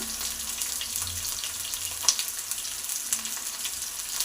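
Garlic frying in oil alongside tomato in a pan, a steady soft sizzle running throughout with one small sharp tick midway, close and fairly quiet.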